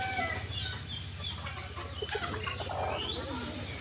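Desi hens cluck softly and continuously nearby, one brooding on ten eggs, over a steady low background hum, with no talking.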